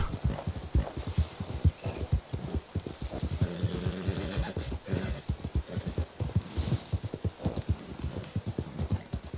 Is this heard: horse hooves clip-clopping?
yes